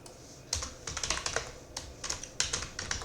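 Fingers type on a computer keyboard while entering Python code, producing quick, uneven bursts of crisp clicks and key taps, close up and moderately loud, with no talking.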